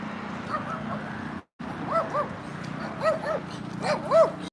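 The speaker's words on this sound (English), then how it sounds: "Doggies." Dogs yip, whimper and give short barks close by on a street, in scattered bursts over a low steady background hum, with a brief silent gap near the start.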